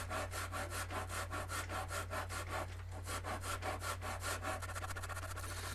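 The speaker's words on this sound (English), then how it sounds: "for that I'm using a Shinto rasp" A Shinto rasp carves the belly cut on a wooden guitar body in a fast, even run of close scraping strokes, with a brief pause midway, over a low steady hum and no talking.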